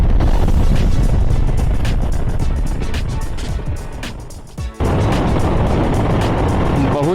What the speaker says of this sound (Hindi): बहुत ही लंबी टनल है भाई